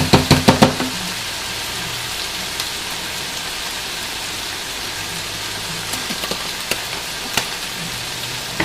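Turkey lettuce wrap filling sizzles steadily in a pan, a soft crackling hiss carrying on throughout, opened by a few brief knocks or taps near the start and broken by occasional faint clicks.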